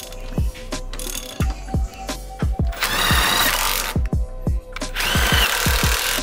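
A ratchet and power tool tighten coilover bolts on a Honda Civic Type R FK8, making repeated sharp ratcheting clicks in short rhythmic runs, close up, with two longer whirring bursts in between.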